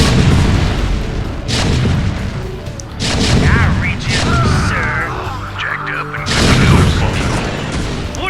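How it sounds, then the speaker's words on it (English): Siege tanks fire in StarCraft: Remastered, heavy booming artillery blasts rolling in bursts at the start, middle and end, loud and close, with someone talking over the quieter stretches between volleys. "Definitely want to focus on the siege tanks."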